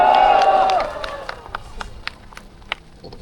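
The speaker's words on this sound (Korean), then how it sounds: "여러분 힘찬 박수 한번 주세요" An audience at a patriotic citizens' rally in Changwon gives a brief, thin round of scattered clapping that quickly tapers into a few isolated claps, following a short ringing tone at the start.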